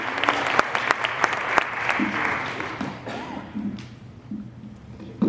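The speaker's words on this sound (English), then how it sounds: "Laura Hale, let's give her a big round of applause." A burst of crowd applause at a parent meeting, with sharp claps at first that thin out and fade while a voice murmurs underneath.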